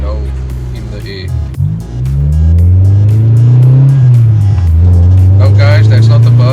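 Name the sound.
motorbike engine revving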